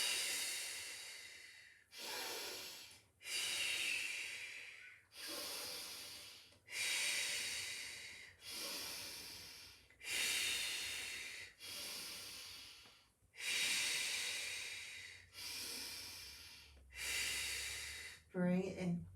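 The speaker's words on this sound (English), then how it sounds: "So breathing in and breathing out as we're drawing it back." Deep breaths in and out during Pilates exercise come in a steady rhythm of about a dozen airy, close pulses separated by short gaps, with no words spoken.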